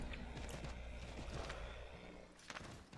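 Horse hooves in the video game Assassin's Creed III, a soft rhythmic clip-clop of a horse moving over ground, faint and steady with a couple of sharper thumps near the end.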